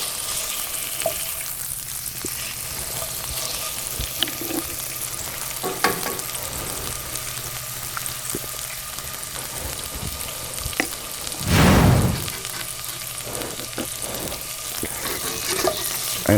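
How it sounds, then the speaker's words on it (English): Eggs fry in a pan over an open campfire outdoors, giving a steady crackling sizzle throughout with scraping and stirring clatter, and one louder burst of hissing partway through. "The last thing we need when the stew is done is the fried eggs to top it all."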